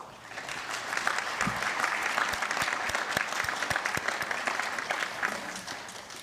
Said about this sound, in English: Please join me in giving that group an applause.